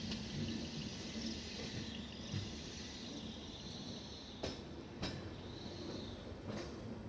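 The Deekshabhoomi Express, an LHB-coach train, rolling into Meerut Junction, heard from onboard as a constant loud rumble of wheels on track, with a few brief clanks over joints and no talk.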